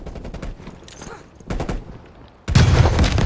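Video game gunfire: a few scattered shots, then a loud, dense burst of rapid fire at the end, with no talk over it.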